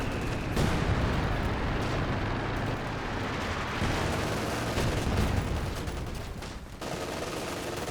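Dense, continuous gunfire and explosive bursts from a Company of Heroes 2 match, rounds being fired into a structure, packed tightly and loud throughout with no clear gaps.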